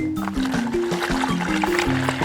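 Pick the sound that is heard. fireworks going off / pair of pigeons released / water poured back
water poured back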